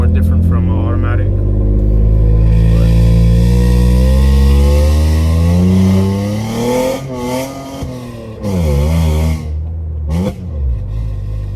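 A manual Toyota Tacoma fitted with URD extractor pipes and a Y-pipe exhaust idles with a deep, loud rumble, then revs sharply in several quick, rising-and-falling bursts toward the end.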